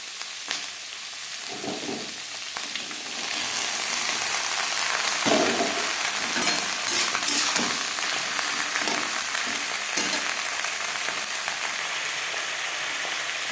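Onion stalks fry in a pan with a continuous close sizzle, broken by repeated scraping as they are stirred, with no talking.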